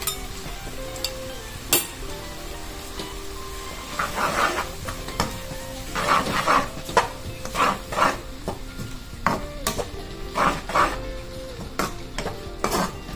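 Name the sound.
chicken legs sautéing with turmeric, capsicum powder and salt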